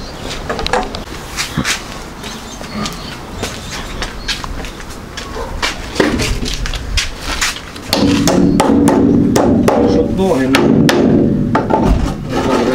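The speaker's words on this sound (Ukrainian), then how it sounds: "Давай молоток позагинаємо гвозді, да?" Repeated hammer blows knock against wood and metal, irregular sharp strikes close by, with a heavier rumbling background and some talking.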